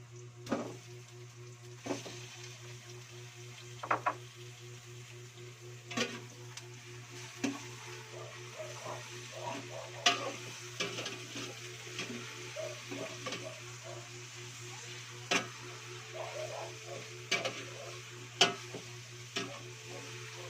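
Chicken pieces sizzle steadily in a hot pan for a Bicol-style chicken curry, with scattered clicks and taps of stirring against the pan over a constant low hum, and no talking.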